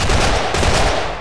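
Loud, close gunfire from a weapon in a Half-Life video game, a dense continuous burst of rapid shots lasting about a second with no talking over it.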